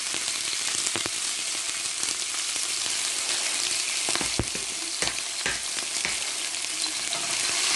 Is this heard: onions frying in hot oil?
yes